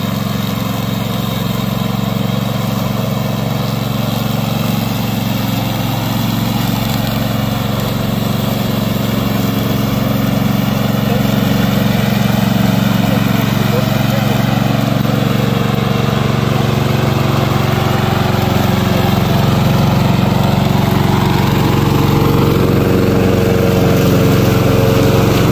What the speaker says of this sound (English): Today I'm going to introduce our remote controller Mower.